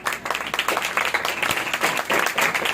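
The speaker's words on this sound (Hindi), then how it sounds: "सुलेमान की तालियां बजाओ।" Audience in a Hindi-Urdu church Bible teaching session clapping for a man named Suleman, a dense burst of steady applause lasting a few seconds, fairly loud and close, with faint voices mixed in.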